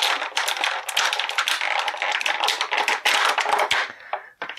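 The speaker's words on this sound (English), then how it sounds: "Pardon the racket while I mess with this bubble." Stiff plastic blister packaging from a Marvel Legends Bishop action figure is pulled and torn open, producing loud, dense crackling and crinkling that continues for several seconds with brief pauses.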